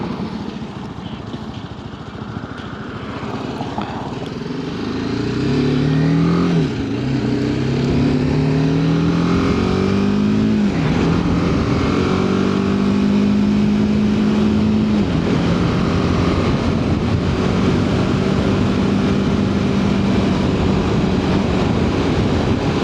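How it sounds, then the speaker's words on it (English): A big truck passes on the road, its engine rumble rising to a loud, close roar with shifting engine tones, then holding steady as it goes by. "Wait for the big truck."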